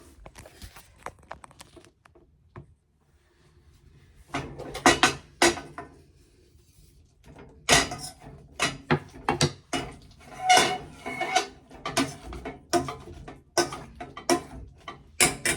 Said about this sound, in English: Heat off and let's get mashing.